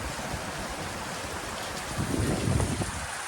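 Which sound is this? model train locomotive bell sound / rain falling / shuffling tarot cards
rain falling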